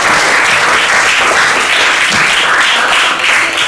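Sustained applause for a group presentation in a teaching-practice classroom session, steady dense clapping at full volume from start to finish with no speech over it.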